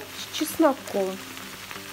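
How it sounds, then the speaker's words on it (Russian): Potatoes fry with onion and garlic in a pan, giving a steady close sizzle and crackle while a voice speaks briefly over it. "Жарим картошечку с луком"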